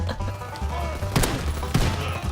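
Shotgun blasts in Call of Duty WW2, two loud sharp booms about half a second apart over a busy, rumbling game soundscape.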